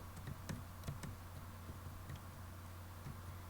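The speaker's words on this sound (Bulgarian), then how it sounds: "Ако се чува много мишката" A computer mouse clicks in quick, light, irregular taps during a Minecraft survival game, faint and close, over a steady low electrical hum with no talking.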